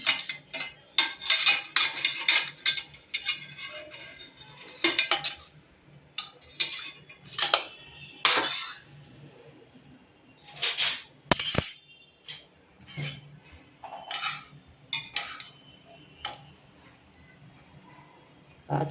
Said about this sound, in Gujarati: આ ચમચી કાઢી લીધી.